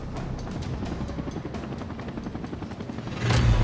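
A helicopter in the video game Dying Light Bad Blood thuds with rapid rotor beats throughout, fairly loud and steady, then swells louder at the end as it draws close.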